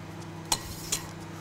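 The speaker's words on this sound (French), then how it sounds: "toc, bonjour, je casse l'œuf" Two sharp cracks of an egg on a bowl rim in a home kitchen while making a yogurt and apple cake, each a short bright tap about half a second apart, close by over a low steady hum.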